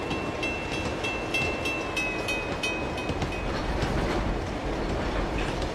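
Train in Uncharted 2 rumbling and clattering along rails, with rhythmic clickety-clack of wheels over track joints and a faint metallic whine, steady and fairly loud throughout with no talking.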